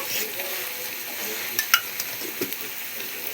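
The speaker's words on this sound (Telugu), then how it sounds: "ఆయిల్లో ఫ్రై అయ్యేంత వరకు మంచిగా ఫ్రై చేసుకోవాలి" Cluster beans fry in oil in a pan for a coconut bean fry, making a steady close sizzle with a few light metallic taps of a spoon against the pan.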